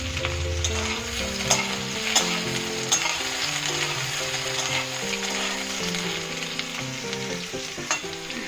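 Potato, eggplant and pumpkin fry loudly in a pan while being stirred, a steady close sizzle broken by repeated scraping strokes of the spoon, with no talking, while making a vegetarian Malabar spinach curry.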